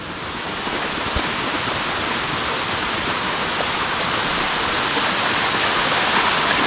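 Dhareshwar waterfall in full monsoon flow, a loud, steady broadband roar of falling water that stays constant throughout with no voices.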